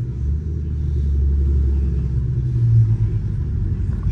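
A car doing a burnout, a deep continuous engine rumble with a low droning roar that swells slightly midway, loud and steady with no clear tire squeal.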